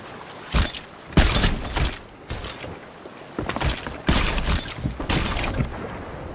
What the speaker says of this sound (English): I did hear a cannon.